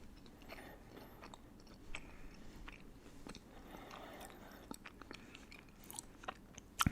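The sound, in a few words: chewing spicy chicken wings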